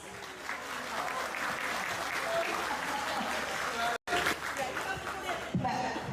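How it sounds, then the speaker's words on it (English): A crowd at a corporate annual event applauds warmly after a presentation to a public works minister, continuous clapping with voices and cheers mixed in and a brief dropout midway. "Please give a big round of applause."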